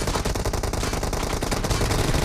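Dense, continuous video game gunfire in a shooter played on a Redmi K20 Pro phone, with loud rapid automatic bursts layered over a busy battle soundtrack.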